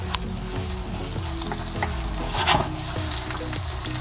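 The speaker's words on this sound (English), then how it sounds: "around 50 grams of chopped green onions. They cook very fast." Chopped green onions frying in sauce for restaurant-style chicken lollipop, a steady close sizzle with stirring scrapes and occasional pops throughout.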